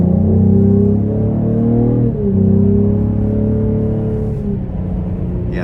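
A 2025 Cadillac CT5-V in track mode accelerating hard out of a corner. Loud in-cabin engine roar with a rising tone, a brief dip at a gear shift, then the pull continues and tapers as the throttle eases.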